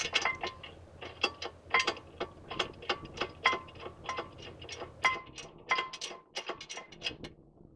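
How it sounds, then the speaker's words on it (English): A torque wrench tightening the 18mm brake caliper bolts on a BMW 3 Series produces a run of sharp, close ratcheting clicks in irregular bursts, with no talking. "And you're going to torque those to 81 foot-pounds."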